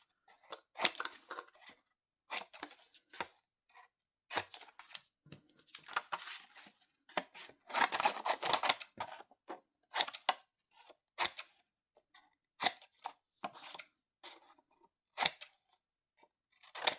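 Scissors snip through paper for a 4 x 6 paper doll notebook, making a series of crisp cuts that come in irregular bursts with short pauses between them, close by and with no voices.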